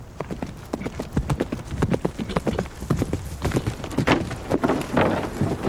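Hooves of a charging cavalry horse pound in a rapid, uneven rhythm, close and loud, with the impacts thickening toward the end as the horse meets a shield wall.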